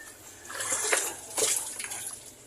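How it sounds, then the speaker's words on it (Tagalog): Water is scooped and sloshed nearby, two splashy surges with trickling in between, fairly soft and without speech. "Dito ako kuha ng tubig"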